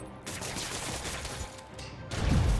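Thugs fire guns in the Marvel's Spider-Man Remastered video game on PS5, a dense, continuous barrage of shots with crashing impacts, swelling louder and heavier in the final half second.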